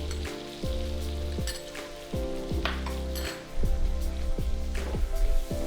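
Chopped ginger and garlic sizzle in hot oil in a pan for chop suey rice, a steady frying hiss punctuated by repeated metallic scrapes and taps of a spoon against the pan.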